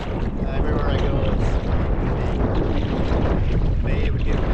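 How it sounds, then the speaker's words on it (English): Strong wind blows steadily across a wilderness lake bay during a solo canoe trip, a loud, continuous rushing that buffets the microphone with no break. "The wind is still blowing on the bay."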